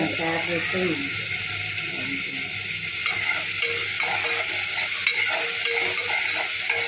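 Food fries steadily in a pan until golden, a continuous close sizzle with a rhythmic clicking, scraping stir running through it, while a person talks over the cooking.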